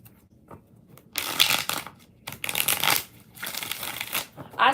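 Tarot cards being shuffled by hand, several crisp riffling bursts separated by short pauses, close and fairly quiet, with no talking.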